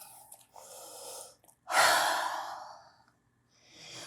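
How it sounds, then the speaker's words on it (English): Breathing during an advanced yoga flow: a couple of softer breaths give way to one long, loud, airy exhale close to the mic that fades out, followed by a quieter intake. "Exhale."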